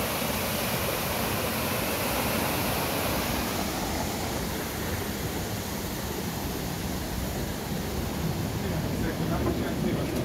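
Steady broadband rush of water flowing at a traditional watermill in Central Serbia, a continuous close roar with no breaks throughout.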